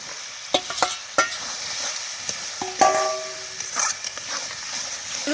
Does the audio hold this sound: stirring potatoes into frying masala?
yes